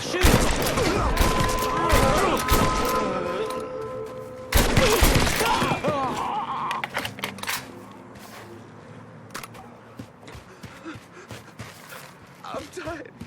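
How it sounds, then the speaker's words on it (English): Gunfire and shattering erupt in the Mafia 3 video game, dense loud bursts for several seconds and then scattered lighter shots and impacts fading away, with in-game voices shouting over the chaos. "He's got a gun! Over there, shoot."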